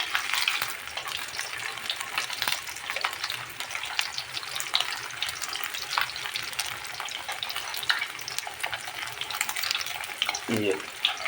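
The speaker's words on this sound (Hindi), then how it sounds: "तेल छटक रहा है।" Kebab pieces fry in hot oil in a home kitchen in Saudi Arabia, giving a steady, close sizzle with crackling spatters throughout and a brief low thump near the end.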